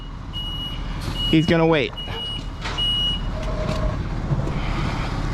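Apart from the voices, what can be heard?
vacuum truck reversing with backup beeps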